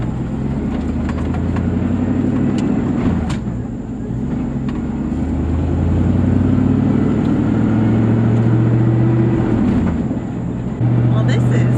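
A truck engine drives steadily, a loud, close, continuous low rumble with shifting drone, heard from inside the cab, while people talk over it.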